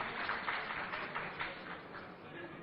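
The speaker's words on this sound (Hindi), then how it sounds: "तो एक बार जोरदार तालियां आपके धैर्य के लिए।" Audience applause fills a panel discussion hall at a news channel's special debate event, a steady, dense clapping that holds at an even level for the whole stretch.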